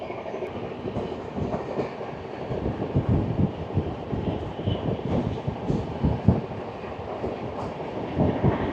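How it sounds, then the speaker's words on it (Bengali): The Shantiniketan Express (12337) runs at about 130 km/h toward Burdwan Junction on a winter morning, heard from on board as a loud, steady rumble with rhythmic clatter of wheels over rail joints and wind buffeting. "স্পিড 130-এর গতি নিয়ে বর্ধমান জংশনের পথে ছুটে চলেছে শান্তিনিকেতন এক্সপ্রেস"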